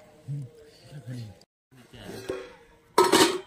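Pots and dishes clatter while being washed in a home kitchen, with scattered clinks under steady conversation and a loud burst of metallic rattling near the end.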